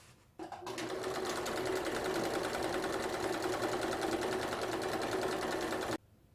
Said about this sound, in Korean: 뒤로 돌려서 겉면을 2mm 폭으로 양쪽으로 한번 박아줄 거예요.